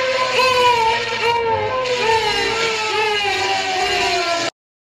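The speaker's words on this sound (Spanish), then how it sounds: "lo que vamos a hacer es escuchar lo que grabamos, pero reproducido al revés." Tape loop recording played backwards on reversed reels, giving a continuous swirling, wavering tonal wash with gliding pitches, loud and steady, stopping abruptly.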